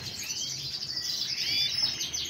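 Pet canaries kept for song contests chirp and twitter in quick, bright, overlapping trills, fairly close and continuous, with no talking.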